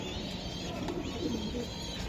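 Tiger racing pigeons coo faintly in short, soft rolls beneath a constant background hum.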